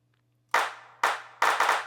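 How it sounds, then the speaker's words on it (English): Three crisp programmed hand claps land on beats 2 and 4 after a moment of silence, each one sharp and dry with a short decay. "let's put our hand claps in on 2 and 4"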